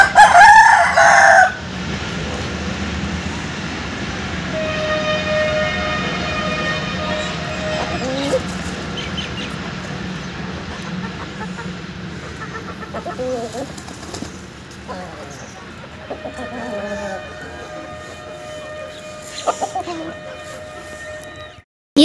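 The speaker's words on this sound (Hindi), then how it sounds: "यहाँ बाबा मुर्गियों को दाना डाल रहे हैं।" Chickens clucking and a rooster crowing while being fed millet grain, an opening crow followed by scattered clucks and calls amid a busy backdrop, with people talking throughout.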